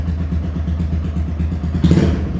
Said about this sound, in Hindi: अब ये आइडल पे सही थंपिंग साउंड है, आइडलिंग में भी इसकी।